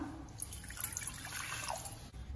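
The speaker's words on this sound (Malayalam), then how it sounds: "ഒരു പാത്രത്തിലേക്ക് 1 കപ്പ് വെള്ളം ഒഴിച്ചു കൊടുക്കാം" A cup of water is poured into a bowl in a home kitchen while making strawberry jelly pudding, a faint, close, gentle trickle and drip that runs steadily for a couple of seconds with no talk.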